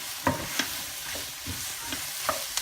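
Onions fry over high heat in a pan with two fats, giving a steady low sizzle broken by several soft stirring scrapes spaced through the clip, close and moderately quiet with no voices.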